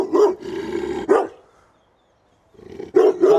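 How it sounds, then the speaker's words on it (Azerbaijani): A Caucasian Shepherd dog barks close by, with a short burst of deep, loud barks, then a pause of near silence, then more barks. "İtə hürür o."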